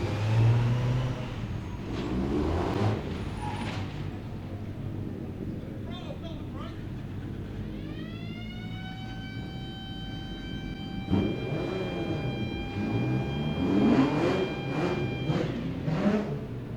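Autograss race cars accelerating at Kings Lynn, engines roaring steadily with one rising whine climbing and holding mid-clip, while a commentator talks over the racing throughout.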